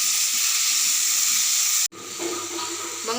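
Tomatoes and onions sautéing in a pan for vathal kulambu, a loud, dense hiss of sizzling that cuts off abruptly and resumes with softer bubbling and stirring, no voices.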